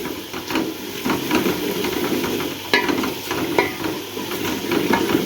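Masala paste sizzles and fries in ghee in a pan, a steady close hiss broken by stirring scrapes and occasional sharper crackles.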